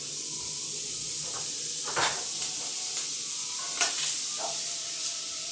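Butter sizzles in a hot pan of sautéed garlic shrimp, a loud steady frying hiss with a few brief crackles and stirring scrapes; close up and without speech.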